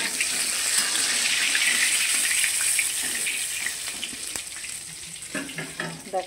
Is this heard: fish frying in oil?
yes